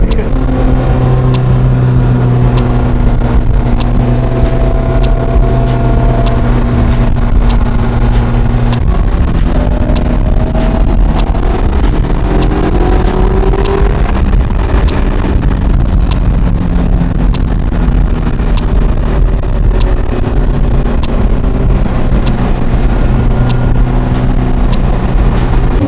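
Engines of a Caterham 7 and supercars at a lineup, a steady loud drone with shifting tones as revs rise and fall, under buffeting wind noise on the microphone and without any talk throughout.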